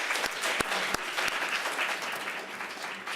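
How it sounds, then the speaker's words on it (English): Applause from a conference audience, a dense steady wash of many hands clapping close by, with a few sharp louder claps standing out near the start. "a really big round of applause for everyone here"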